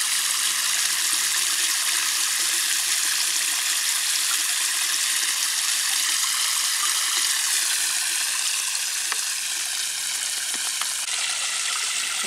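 Water pours steadily from a watering can or hose onto garden soil, a close, continuous splashing and trickling hiss with faint bubbling, running unbroken for several seconds without speech.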